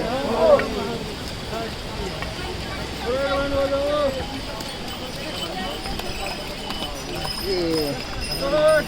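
Horses walk along the narrow Kedarnath pilgrimage trail, their hooves clip-clopping in an uneven rhythm amid wind and people talking nearby.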